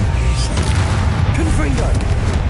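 Confringo blasting spell explosions in a Harry Potter game, a dense continuous rumble of booms under a voice calling out spells.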